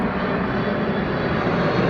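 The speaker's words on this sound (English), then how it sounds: "6 a.m. the first plane arrives." Airplane passing overhead at dawn, a steady broadband engine roar filling the whole stretch at fairly close range, loud and continuous with no voices over it.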